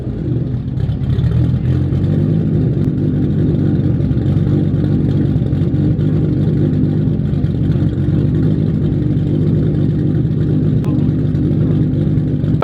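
A Toyota Supra with titanium straight-pipe exhaust and GSC S2 billet VVTi cams runs at a steady, loud idle, its rough, throaty drone constant and close for the whole stretch.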